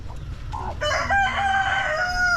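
Chickens in a back garden near a border crossing into Argentina, with a rooster crowing loudly and close by while hens cluck around it.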